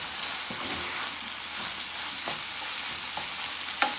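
Salted fish being stirred with squeezed lime juice in a hot pan for a Guyanese breakfast, giving a steady sizzle with soft scraping and a few sharp clinks of the utensil, close and alone.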